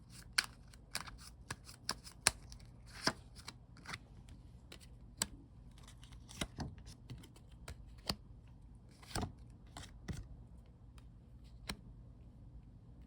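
Quiet, close riffling and soft snaps of tarot cards being shuffled and drawn, in irregular clusters of small crisp clicks over a near-silent room.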